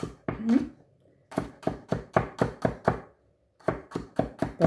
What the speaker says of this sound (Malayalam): അപ്പം ആദ്യം ഇത് ചെറുതായിട്ടൊക്കെ അരിഞ്ഞെടുക്കാം